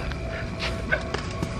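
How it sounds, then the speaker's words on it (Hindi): Dogs barking in the distance outdoors at night, a few short faint yips and barks over steady background noise, with no voices over them. "वो कुत्ते भौंक रहे हैं"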